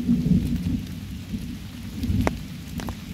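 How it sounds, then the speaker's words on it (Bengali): Rain pours steadily in a forest near Kolkata, a pond nearby, with a continuous hiss of drops on foliage and ground, and a low rumble of thunder rolling underneath throughout. "বৃষ্টিটা এখনো পড়ে যাচ্ছে।"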